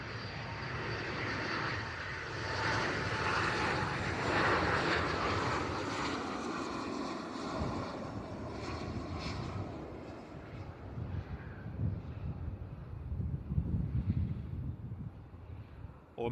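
A Boeing 737 or Airbus A320 airliner arriving at Bristol Airport roars steadily and loudly for the whole stretch, its broad engine rumble holding with light wind buffeting the microphone.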